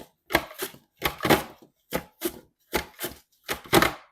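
Red onions slide across a handheld slicer in a run of about seven rhythmic, close scraping cuts, each a short crisp burst with silence between.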